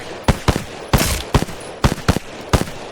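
Gunfire tap-shooting at a video game firing range: short bursts of one and two sharp shots spaced irregularly, loud and close with no talking.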